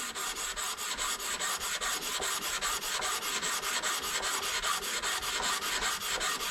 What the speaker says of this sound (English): we're going to just finish sanding our neck